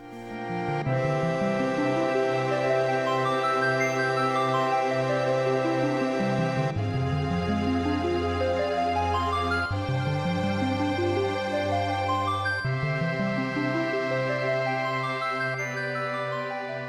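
Repeating rising arpeggios in a harp-like synth climb over sustained low bass notes, cycling through several chord changes in a steady, flowing pattern: a theme from Final Fantasy VII.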